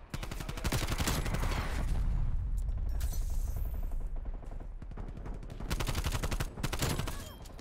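AK-74u firing tracer rounds in Black Ops Cold War, sustained rapid automatic bursts rattling loudly and close, with a short lull mid-sequence before further volleys resume.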